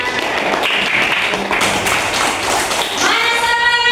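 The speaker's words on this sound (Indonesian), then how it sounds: "Mana tepuk tangannya anak-anak?" Children clap together in a classroom after a group presentation, a dense patter of many hands that carries on steadily, with some voices mixed in near the end.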